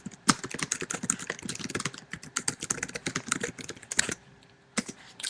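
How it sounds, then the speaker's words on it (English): Someone types on a computer keyboard in quick, uneven bursts of close, crisp key clicks, with a brief pause near the end before the tapping resumes. "I'm just going to type that."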